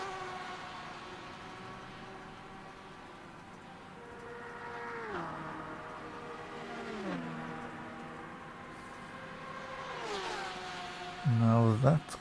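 Porsche race cars in rFactor 2 at Road America whine through the gears, engine tones rising and dropping with repeated shifts and braking, a louder burst near the end, while a voice talks over the top.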